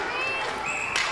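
Brief burst of crowd noise from spectators at a varsity ice hockey game between Rye and Mamaroneck, a loud, dense wash of cheering and clapping.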